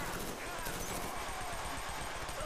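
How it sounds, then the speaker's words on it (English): Submachine gun fire from the Killzone 3 beta, a steady rapid stream of shots running through the whole stretch at moderate level, with no pauses between bursts. "I'm not too good with the submachine gun that I picked up here"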